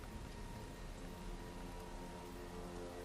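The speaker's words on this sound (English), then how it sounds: "the rain pouring." Heavy rain pours steadily around a freshly filled grave, a constant dense wash of falling water with no gaps and no voices.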